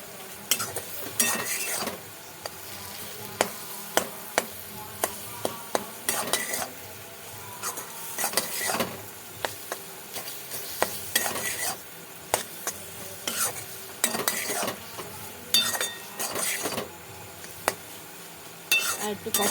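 A spoon stirs and scrapes masala sautéing in a pan for egg tarka, giving repeated sharp metallic clinks and scrapes over a soft, continuous sizzle, with short quiet gaps between bursts of stirring.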